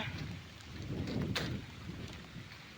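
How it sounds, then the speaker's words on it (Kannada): Hail and rain pour down during a monsoon storm, a dense, fairly faint rushing patter with a low rumble swelling in the middle, heard alone without speech. "ಆನಿಕಲ್ ಮಳೆ ಆನಿಕಲ್ ಮಳೆ ಮಳೆ ಬಂತು ಬಂತು ಮಳೆ ಬಂತು"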